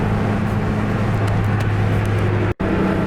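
Lotus Elise turbo engine accelerating hard in fifth gear, a loud sustained droning roar with a steady low tone heard from inside the car, cut by a brief dropout near the end.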